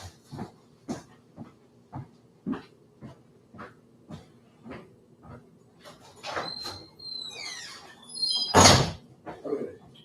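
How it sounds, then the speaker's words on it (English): A house door being opened to let a dog in: a run of regular soft knocks or footsteps, then creaks, squeaks and a loud clattering burst near the end, with no speech. "I gotta go open the door for my dog."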